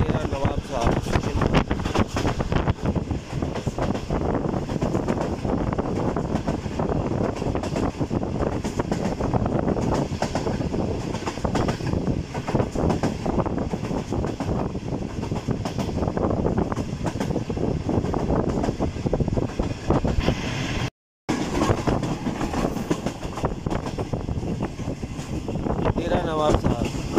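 Karakoram Express running at night between Karachi and Lahore, passing a station: a steady, loud broadband rumble of wheels and carriage noise with wind buffeting, continuous throughout, with a single brief dropout near the end.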